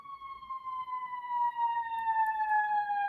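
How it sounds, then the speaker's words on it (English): An ambulance siren passing, a single loud steady tone with bright overtones that slowly drifts downward in pitch as it goes by, heard alone. "Let that ambulance go"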